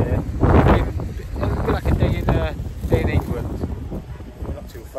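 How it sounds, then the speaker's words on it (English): Wind buffets a microphone on a chilly walking tour through Berlin, a loud gusty rumble that rises and falls over several seconds while someone talks through it. "A bit windy today, a bit colder today."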